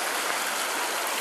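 River water rushes in a constant, full-bodied broadband wash, close and unbroken, with no voices over it.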